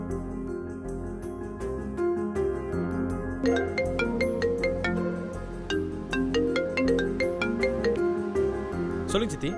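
A mobile phone ringtone plays during a call in a Tamil TV serial, a repeating electronic melody that runs steadily under background music.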